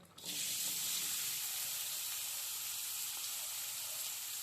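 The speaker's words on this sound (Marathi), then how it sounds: "तेल थोडंसं गरम झालं की त्याच्यामध्ये कांदा टाकायचा" Chopped onion drops into hot oil in a kadhai for egg bhurji and bursts into a loud, steady hiss that starts abruptly and sizzles on evenly without a break.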